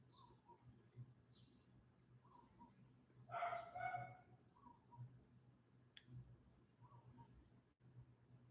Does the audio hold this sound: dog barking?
yes